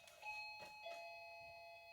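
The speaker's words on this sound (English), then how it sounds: "I better go exterminate that doorbell before I hear it go buzz again" A doorbell chimes indoors with a clear sustained electronic tone, sounding once and ringing on faintly, quiet and alone.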